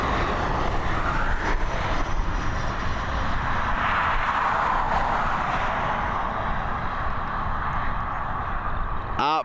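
A Ryanair airliner landing at Dublin Airport, a loud sustained roar of jet engines and rushing air heard from nearby, steady throughout with a sharp tonal sweep at the end.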